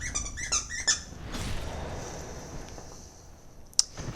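A Pomeranian plays with a new squeaky toy indoors, with a quick run of three close, high squeaks, then a quiet stretch and one sharp squeak near the end.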